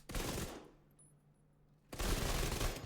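Ouroboros rapid-fire gun in The Division 2, two loud sustained bursts of fast automatic fire separated by a short quiet pause, close and harsh with no talking.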